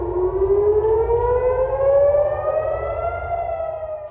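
A wailing air-raid siren sounding across Jerusalem rises slowly in pitch and holds steady, loud and continuous, with a low rumble underneath and no voices.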